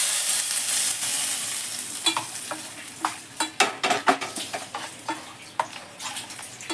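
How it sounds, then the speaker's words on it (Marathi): Mustard seeds and curry leaves go into hot oil for a tempering over chutney, starting as a loud hiss that breaks into rapid, sharp crackling pops and spatters, close and clear. "आता थोडीशी मोहरी टाकते आणि कढीपत्ता"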